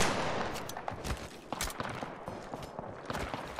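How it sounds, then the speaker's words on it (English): Rapid gunfire from the video game Apex Legends rattles in quick bursts, with close, loud shots layered over a busy game soundscape. "Who just shot at me?"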